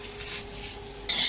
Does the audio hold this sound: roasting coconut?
yes